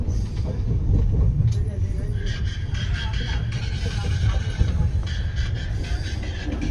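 Inside a moving passenger train in India, a steady low rumble of the carriage and wheels goes on throughout, with rattles and clatter and some intermittent voices.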